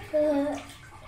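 A toy car is dropped into water, giving a short splash and brief gurgle lasting under a second, close and fairly loud, with a voice faintly around it.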